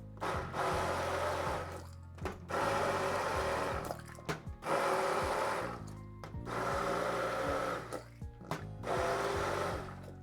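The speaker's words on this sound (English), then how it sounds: "the immersion blender is doing a really nice job of incorporating all of it" Immersion blender churning broccoli cheddar chorizo soup in repeated loud bursts, about five pulses separated by short pauses, close up with no talk.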